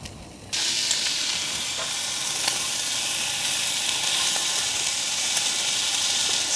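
Onions and sliced cheese fry in a pan at a truck campsite for a chopped cheese. After a brief quieter moment, a steady close sizzle takes over, dotted with occasional small pops.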